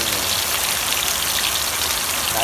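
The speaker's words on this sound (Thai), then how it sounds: "บรรยากาศฝนตกครับนี่" Steady rain falls outdoors, a dense, even hiss of drops that continues throughout with no voices.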